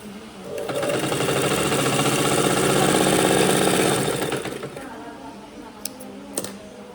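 A sewing machine stitches a dart on a blouse in a fast, steady mechanical rattle that runs for several seconds, then slows and stops, followed by a couple of faint clicks.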